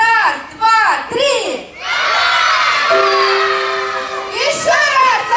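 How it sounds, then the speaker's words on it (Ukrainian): A crowd of children and adults at an outdoor village children's festival gala concert shout their own names all at once, a loud, sustained mass roar that swells and fades, with livelier cheering voices around it. "Давайте все хором, каждый крикнет свое имя, только так громко, чтобы слышала вся земля."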